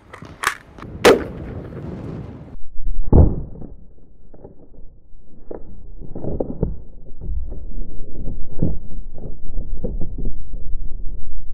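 A 5.56 rifle fires into a ballistic gel block on a table, with sharp loud reports near the start followed by a string of fainter impulsive cracks and knocks over steady background noise.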